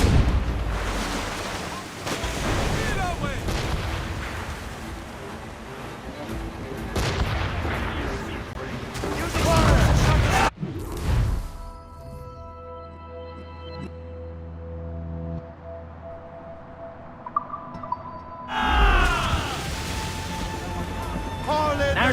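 Ship cannons boom in a naval battle in Assassin's Creed Rogue, a series of loud, heavy blasts over rushing sea and waves, with shouted crew voices throughout and a quieter lull of creaking before more firing.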